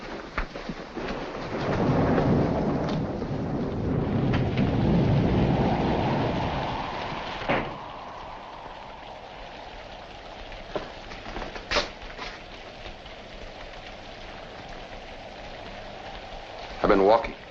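A heavy thunderstorm, with a long low rumble of thunder rolling and swelling over steady rain, then fading into a softer wash of rainfall broken by scattered sharp cracks, while voices speak at times.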